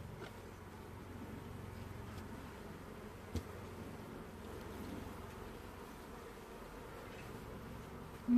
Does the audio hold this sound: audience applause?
no